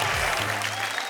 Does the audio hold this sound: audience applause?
yes